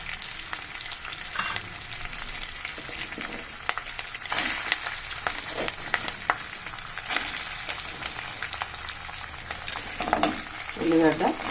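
Onions fry in a pan for an onion and fresh coconut curry, a loud continuous sizzle with frequent scraping and stirring knocks, and a brief clatter near the end.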